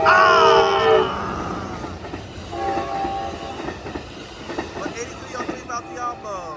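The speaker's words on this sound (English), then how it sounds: "they got that train on its way to San Jose" An Amtrak Capitol Corridor passenger train passes near 98th Ave in Oakland, California: a loud horn blast opens, then a rolling rail rumble with rhythmic clatter and an excited voice exclaiming.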